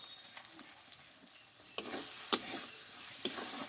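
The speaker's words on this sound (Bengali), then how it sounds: "দিয়ে একটু নাড়াচাড়া করে নিব" A potato and cauliflower curry with spices and a little sugar is stirred in a pan. It gives a soft, low sizzle, broken by a few sharp scrapes and clinks of the spoon against the pan.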